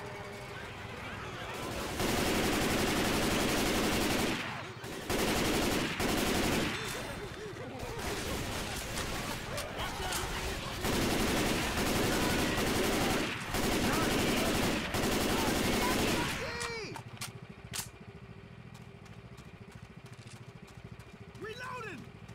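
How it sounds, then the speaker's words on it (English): Full-auto shotgun blasting in Left 4 Dead 2 on the Junkyard map, a loud, dense stream of rapid shots with short breaks, trailing off into quieter game ambience. "Full auto shotgun."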